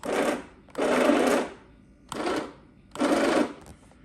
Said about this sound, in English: now only the right motor is going